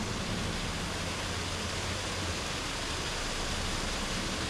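Constant rushing roar of Amity Creek Falls in Duluth, Minnesota, a steady broadband wash of falling water heard close and on its own without any voices.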